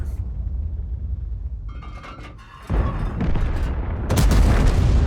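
A tank in World of Tanks firing HEAT shells: a few heavy, booming cannon shots with rumbling tails, separated by quieter stretches, growing louder toward the end, with no talk.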